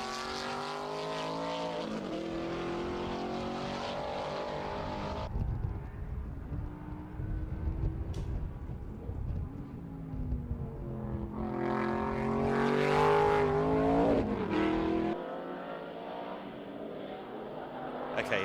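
An Aston Martin V8 Vantage race car with a 4.7-litre V8 at Estoril circuit, its engine note rising and falling through gear changes as it passes, loud and sustained.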